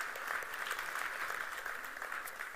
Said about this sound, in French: Si vous voulez applaudir, applaudissez pour de vrai.